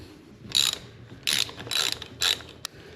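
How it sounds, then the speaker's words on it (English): Four ratchet bursts clicking away as a pinch bolt on the fork of a BMW F650GS Dakar motorcycle is broken loose, close and clear, with a faint single click at the end and no talking. "we're going to break this pinch bolt loose."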